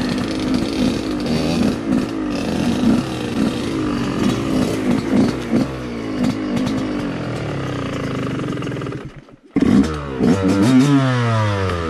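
Two-stroke motorcycle engine revving on a single-track trail, loud and close with rising and falling pitch, a brief cut near the end, then a sharp rev back up.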